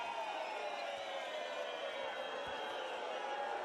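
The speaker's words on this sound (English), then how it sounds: "The crowd booing Ankara here, who continue to protest." A volleyball arena crowd booing during a CEV Champions League match between Lube and Halkbank, a steady dense roar of many voices held throughout.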